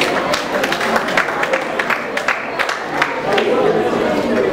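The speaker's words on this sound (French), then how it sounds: "On applaudit s'il vous plaît." An audience at a memorial gathering claps, the scattered handclaps overlapping with crowd chatter and a speaking voice throughout.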